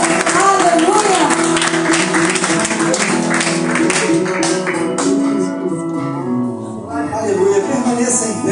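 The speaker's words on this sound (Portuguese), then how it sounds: "erga suas mãos, aplauda o Senhor, porque Ele é digno" A church congregation claps and applauds together, a dense continuous patter that runs alongside loud music and sung or spoken worship voices throughout.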